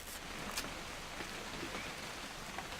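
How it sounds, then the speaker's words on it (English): Rain falls steadily in the video game What Remains of Edith Finch, a soft continuous patter with occasional brighter drips, with no voices. "It's gonna rain the whole weekend, isn't it?"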